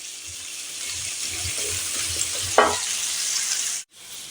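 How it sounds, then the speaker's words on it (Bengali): Kohlrabi pieces fry in a pan with a steady, close sizzle and crackle, a brief scrape or stir near the middle, then the sizzle cuts out abruptly before resuming quietly. "এটা ভাজা হতে থাকুক"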